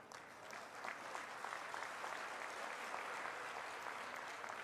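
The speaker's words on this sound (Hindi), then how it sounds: "मेरे कानों में तालियों की गड़गड़ाहट की आवाज सुन रहा हूं" A crowd at an Indian political rally in Bedipuliya applauds steadily, a continuous wash of clapping that sounds somewhat distant and muted, holding an even level throughout.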